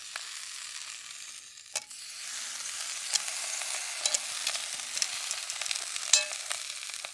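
Steak and vegetables frying on a camping stove, a continuous close sizzle with scattered crackles and light scraping stirs, no talk.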